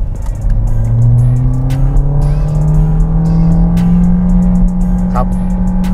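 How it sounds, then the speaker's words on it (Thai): A 2018 Toyota Vios 1.5E with VVT-i engine accelerates to overtake, its engine note rising steadily in pitch, loud and close from inside the cabin, with road noise underneath and light ticking sounds. "พี่ครับผมขออนุญาตแซงนะครับ"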